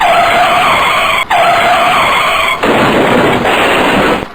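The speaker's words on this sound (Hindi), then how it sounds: "लेकिन गाड़ी सड़क से स्किड होकर कच्चे रास्ते पर चली गई और स्लिप होकर एक बड़े पत्थर से जा टकराई" A car in an animated horror story skids off the road onto a dirt track. Loud, sustained tire screeching runs for about four seconds, broken by a couple of brief dips, with no voices over it.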